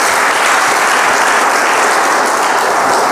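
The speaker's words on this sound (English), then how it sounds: "So one round of applause to all the audience over here." An audience at a Rotary event in Goa breaks into loud, steady applause that fills the whole stretch with dense, continuous clapping and no speech over it.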